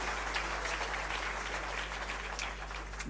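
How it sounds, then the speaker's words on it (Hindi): Steady, fairly faint applause from a crowd at a political tribute event, clapping sustained evenly throughout with a low constant hum beneath. "एक जोरदार तालियां प्रधानमंत्री जी के लिए भी होनी चाहिए।"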